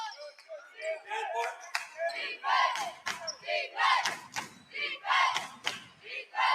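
Basketball crowd at a boys' high school game chanting for defense, rhythmic rising shouts and claps repeating steadily, loud and close, filling the gym with a pulsing call-and-response feel.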